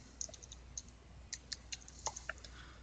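Quiet typing on a computer keyboard, a scattered run of soft key clicks at uneven spacing against faint room hiss, with no talking.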